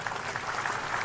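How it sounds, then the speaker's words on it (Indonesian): A crowd at a special ceremony attended by Indonesian special forces claps in a brief, dense, even wash of applause. "Tepuk tangan semuanya."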